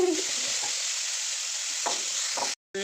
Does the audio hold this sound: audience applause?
no